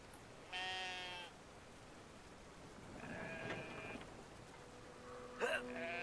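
Oversized sheep in the Brothers: A Tale of Two Sons video game bleat in three separate cries, the first loud and wavering, the later ones softer and drawn out over a faint wash of ambient noise.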